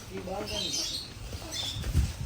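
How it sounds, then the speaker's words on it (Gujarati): Wings flap in short fluttering bursts nearby, with faint bird coos and a person speaking in the background. "કબૂતર બહુ જાજા જો."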